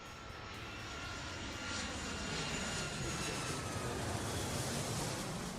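Steady, loud airliner engine roar from the Airport Madness 3 air traffic control game, a continuous broadband rumble holding for several seconds with no pauses.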